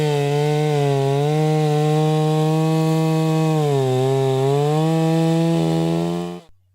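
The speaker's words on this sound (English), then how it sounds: "Sawing is very fast and easy with this chainsaw compared to manual saws." A chainsaw runs steadily at high revs, its engine pitch dipping and wavering as it bites into wood, then cutting off abruptly at the end.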